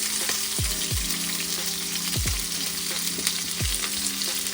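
Chopped country masala and other ingredients fry in a hot pan, a loud continuous sizzle broken by three low scraping thuds of stirring at regular intervals, with no voices.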